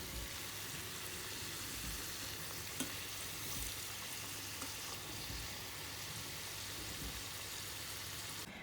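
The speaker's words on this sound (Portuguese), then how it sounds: "Então, enquanto elas estão a fritar," Clarinhas de Fão pastries frying in oil, a dense, continuous sizzle heard close and steady throughout with a few faint pops and clicks.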